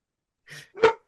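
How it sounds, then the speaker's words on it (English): Dog barking twice in quick succession, a short soft bark followed by a louder, sharper one, close by in an otherwise quiet room. "He's barking at a dog on the sidewalk."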